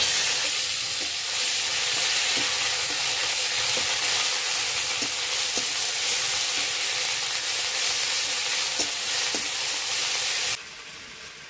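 Ginger, cumin, chili, onion and garlic pastes fry in hot mustard oil for a desi chicken-and-egg curry, producing a loud continuous hiss with faint spoon taps that drops off sharply near the end.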